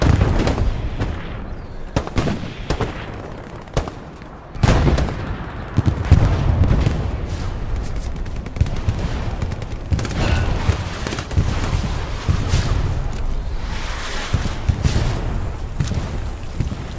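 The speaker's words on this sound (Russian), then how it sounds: "Выстрелы, рев пролетающих снарядов, грохот взрывов" Dense World War II battle noise in the video game Hell Let Loose: rapid gunfire, shells roaring overhead, heavy booming explosions and rumbling blasts pile up continuously, loud and close throughout.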